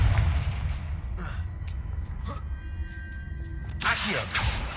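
Fiery Confringo blast spell bursting in the Hogwarts Legacy video game, heard as a few sharp booming impacts among other spell effects, ending in a loud broadband whoosh-burst near the close.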